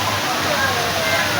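A rocky mountain stream rushes steadily in a broad, loud, unbroken wash of water, with voices talking over it.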